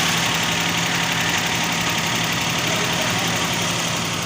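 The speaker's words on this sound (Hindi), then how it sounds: "पता नहीं क्या हो गया है गाड़ी को, शोर शराबा कर रही है।" A car makes a steady, loud, rough engine noise with a constant droning rumble and vibration throughout, close by, with no clear breaks.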